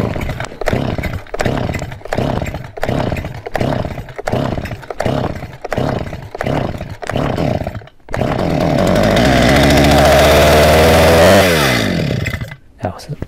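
A STIHL chainsaw is pull-started with repeated rhythmic cord pulls, then catches and roars at steady high revs for several seconds before the throttle drops back, loud and close.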